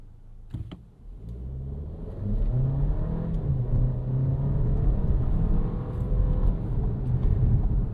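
A 2026 Volkswagen Tiguan Turbo SUV with an 8-speed automatic launches off the line in sport mode, its engine rising into a steady, loud, rumbling rev after a brief idle, heard from inside without talk.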